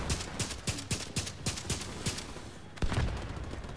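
Rapid gunfire during a video game raid, with bursts of repeated shots at an even rhythm, moderately distant and fairly quiet, then a heavier shot near the end, with no talking over it.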